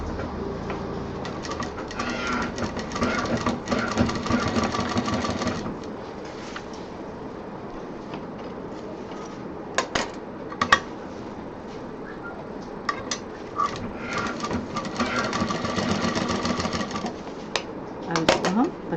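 Sewing machine stitching the piping on a handmade bag, running in several short bursts of rapid clatter separated by pauses and small clicks.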